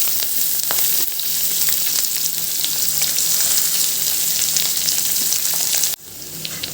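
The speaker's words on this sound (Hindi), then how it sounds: "ये देखिए अच्छे से हमारा शिमला मिर्च भी फ्राई हो गया, प्याज भी हो गया" Capsicum and onion fry in a pan with a loud, steady sizzle that crackles continuously, then drops off sharply near the end before resuming more softly.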